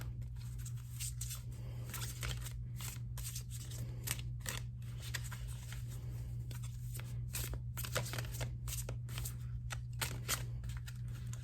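A tarot card deck is shuffled over and over up close, a quiet run of quick riffling and flicking bursts in an irregular rhythm over a steady low hum.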